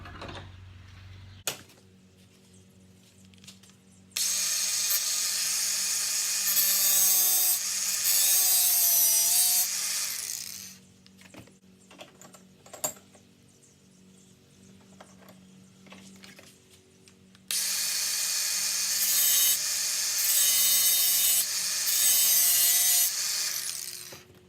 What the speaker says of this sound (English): a slice in the threads here so that the grease can travel all the way up and lubricate the entire threaded area